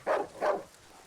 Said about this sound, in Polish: No ja słyszę psy.